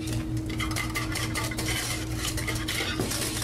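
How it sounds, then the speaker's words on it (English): A spoon stirs asparagus soup with ham and added broth in a pot, scraping continuously around the edges with steady soft scraping and clinking close up, no talking. "I'm using a spoon to make sure nothing's settled around those edges"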